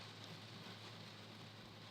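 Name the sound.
rain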